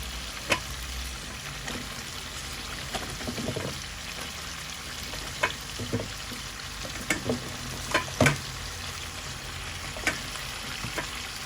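Potatoes and eggplant fry in a pan of hilsa fish curry: a continuous sizzle punctuated by scattered clinks and scrapes of stirring, some sharp and close, with no one speaking.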